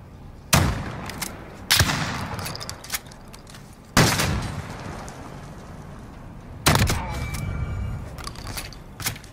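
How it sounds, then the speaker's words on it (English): Rifle shots in a first-person shooter game, four sharp loud cracks spaced unevenly across the stretch, each followed by a short rumbling tail, with no talking. "if I shoot it outwards over there, you can see the bullet dropping"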